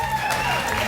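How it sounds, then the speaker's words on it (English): Studio audience at a late-night talk show cheering and applauding, a steady wash of clapping and whoops. "You don't have to keep cheering."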